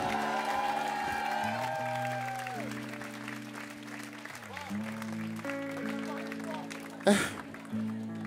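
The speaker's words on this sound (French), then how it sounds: "Applaudissements pour eux," Audience claps at a concert in an ARTE Concerts Volants show, a steady crowd applause mixed under sustained music tones, ending in a sharper burst near the end.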